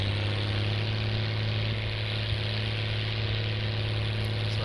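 A tractor engine idling in a farming game, heard from inside the cab as a steady low hum with a constant drone, unchanging and without talk.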